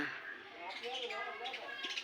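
House sparrows chirp faintly in a quiet outdoor setting, their soft, busy tweets overlapping for a moment.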